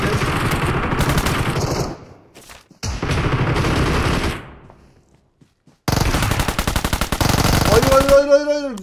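Rapid automatic gunfire in the mobile battle game PUBG Mobile, dense loud bursts that stop twice and resume, ending with a short sweeping electronic tone.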